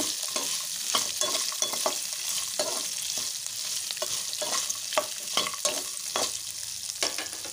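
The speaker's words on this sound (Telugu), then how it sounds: "మనం ఈ ఆయిల్లో అయితే వీటిని వేయించుకోవాలి" Spices and vegetables fry in hot oil for an amaranth leaf chutney, a bright continuous sizzle broken by repeated scraping stirs of a spoon in the pan, close and fairly loud, with no talking.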